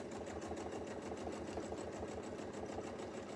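A sewing machine runs steadily, stitching a baptist fan pattern on a quilt, a close, continuous rapid mechanical hum with a fast even pulse and no talking.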